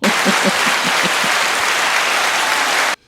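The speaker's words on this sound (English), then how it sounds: "You should give yourself a round of applause." Loud, dense applause from a crowd fills the whole stretch evenly, with a few distinct claps standing out near the start, then cuts off abruptly just before the end.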